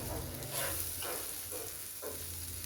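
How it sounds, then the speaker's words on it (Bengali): Steady sizzle of potatoes frying in oil with prawns, a continuous hiss with several soft stirring scrapes at regular intervals, close and moderately quiet, no voices. "এখন আমি আলুগুলো ভেজে নেব।"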